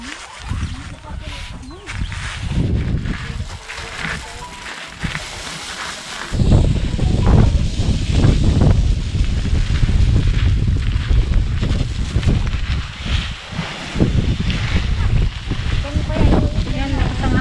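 Strong wind buffets the microphone in rough, rumbling gusts that grow louder partway through, with people talking underneath.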